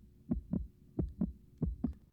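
A mouse heartbeat in a cat video game thumps in quick, loud double beats, three pairs in steady rhythm, heard alone.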